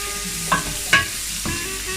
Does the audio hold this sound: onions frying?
yes